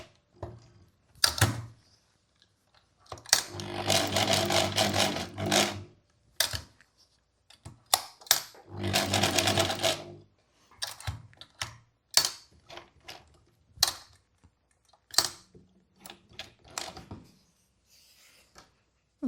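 Sewing machine stitching terry towelling fabric for a beach cover-up dress, running in two longer whirring bursts of a couple of seconds each, separated by short clicks and taps of handling between stops.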